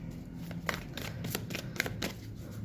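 A deck of Osho Zen tarot cards being shuffled, with quick riffling flicks and soft card slaps repeating close up and quiet, with no talking.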